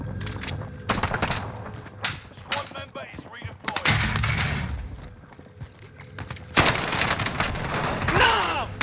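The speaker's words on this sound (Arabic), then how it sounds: "هذا طلقة طلقة والله طلقة" Call of Duty: Modern Warfare gunfire crackles in rapid bursts and single shots, mixed with thuds and explosions, while people talk excitedly over it.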